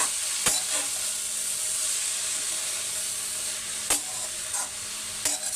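Garlic and fenugreek leaves for lasuni methi sauté in a pan with a steady close sizzle, punctuated by a few sharp spatula scrapes and taps, with no voices.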